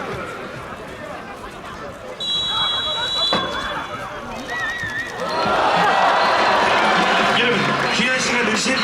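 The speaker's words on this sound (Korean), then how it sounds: "시축은 오늘 경기 주심의 휘슬 소리와 함께 출발하겠습니다" A referee's whistle signals the ceremonial kick-off at an FC Anyang football match in a stadium: one shrill, sustained blast over crowd chatter, followed by the crowd noise rising and staying loud.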